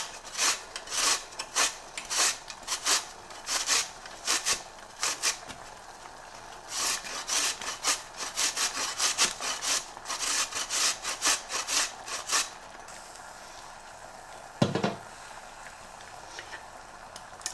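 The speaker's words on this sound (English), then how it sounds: "I'm just going to grate the ginger in with a grater, and you can leave the skin on" Fresh ginger with the skin on is grated against a metal grater for masala chai, a steady run of close, rhythmic scraping strokes for about twelve seconds, followed by a pause and a single soft knock.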